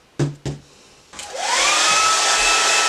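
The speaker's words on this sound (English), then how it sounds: "I applied heat to the foam sections using my trusty hairdryer" A hairdryer heats sections of XPS foam, starting after a couple of sharp clicks and settling into a loud, steady rushing whine close by.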